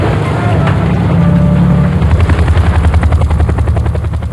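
A helicopter flies close and loud on a power-line inspection, its steady engine roar carrying a rapid, rhythmic chop of rotor blades throughout.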